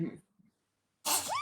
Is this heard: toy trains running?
no